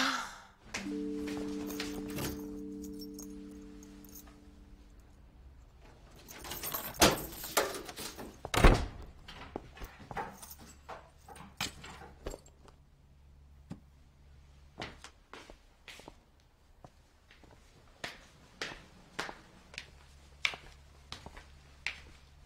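Someone repeatedly tries a locked door at home. There is a loud thunk and rattle early on, then a long series of quiet, sharp clicks and knocks from the handle.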